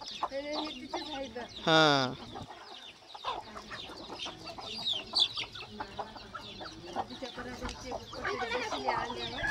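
A hen on a farm clucks repeatedly in short, uneven bursts while people nearby talk over and between the calls.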